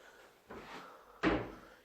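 A small cupboard door in a hotel room in Dusseldorf moves twice, first a soft opening sound and then a sharper close that thumps a little, heard near and alone in a quiet room.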